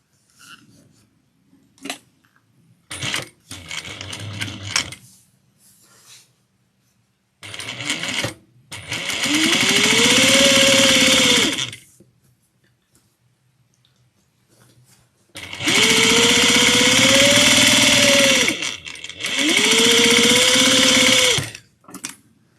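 A sewing machine stitches a tote bag seam with a narrow 1/8 inch seam allowance while closing up a pocket. It runs in three sustained bursts, each several seconds long, with short stops, a softer stutter of stitching and handling noises between them.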